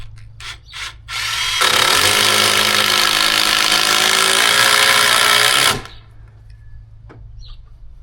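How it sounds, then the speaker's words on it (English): A power drill driving screws into the wooden frame of a tiny DIY shed: a few short clicks and bursts, then a loud continuous whir for about four seconds that stops abruptly, followed by faint handling noises. "So we're going to run a screw in through this point, then a screw down here, then a screw up through the bottom toenail"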